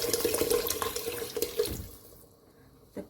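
Water pours in a steady gurgling stream into a pot of lentil dal, then tapers off, leaving quiet with a small splash at the end.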